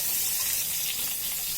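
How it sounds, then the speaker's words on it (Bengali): Pointed gourd (potol) fries in a pan in a home kitchen, a close, steady, bright sizzle that stays even throughout the short stretch with no talk. "পটলটা ভাজবো।"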